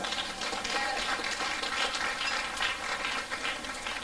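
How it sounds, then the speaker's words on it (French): A church congregation at an 80th anniversary service applauds steadily, a dense wash of many hands clapping at moderate distance and even loudness throughout. "Applaudissons le Seigneur."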